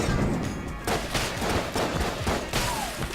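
Rapid gunfire and shotgun blasts from the video game Enter the Gungeon, a dense run of loud repeated shots with thuds, continuing throughout with no talking.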